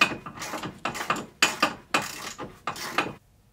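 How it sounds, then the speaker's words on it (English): A ratchet works loose a seat belt bolt on a 2022 Can-Am X3, giving five or six short, close bursts of rapid clicking with brief pauses between, then quiet. "the next step is to remove the seat belt bolt right there"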